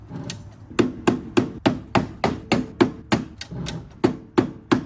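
A hammer pounds metal on a wrecked car radiator support, about fifteen sharp, close, loud strikes at a fairly even rhythm, with no talking.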